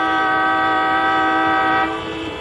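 Several vehicle horns blare together in a long, loud, steady honk that drops off slightly near the end.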